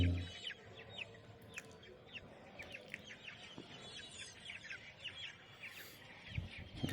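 Many desi chickens cluck and chirp in quick, scattered bursts over a low crowd murmur at a village market, with a few clearer calls near the end.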